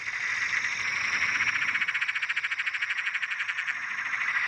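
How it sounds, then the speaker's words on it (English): A Perrin's tree frog calls from a tree in a steady, rapidly pulsing croaking trill, fairly close and clear, repeating without a break. "I could hear a Perrin's tree frog singing in a tree behind me"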